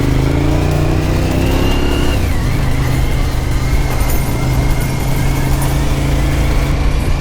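A Suzuki SV1000 motorcycle engine hums steadily close by, its pitch dropping as revs fall after about two seconds, then holding an even drone with wind noise.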